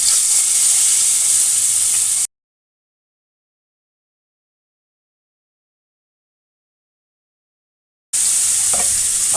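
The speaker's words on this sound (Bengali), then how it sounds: "মাছটাকে ভেজে নেব।" Katla fish pieces rubbed with turmeric and salt fry in hot oil in a kadai, giving a bright, steady sizzle that cuts out to silence for several seconds before the hissing resumes.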